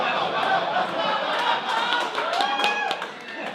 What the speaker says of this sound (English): Second applause break.